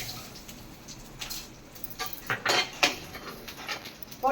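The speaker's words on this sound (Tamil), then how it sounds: "இப்போ உளுந்தம்பருப்பு போட்டுக்கலாம்." Urad dal dropped into a pan for a Tamil thuvaiyal with dried red chillies, coconut slices and asafoetida, brief clattering and rattling of lentils and a utensil against metal, close, in short bursts over quiet background.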